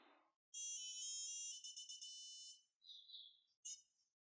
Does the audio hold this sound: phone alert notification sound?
yes